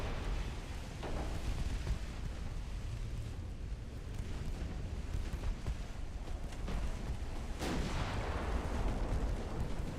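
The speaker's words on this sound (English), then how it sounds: "There we go. Torpedo detonation." Torpedo detonations rumble through a naval warfare video game, with deep booming explosions and a sharp blast standing out over continuous low roaring battle noise.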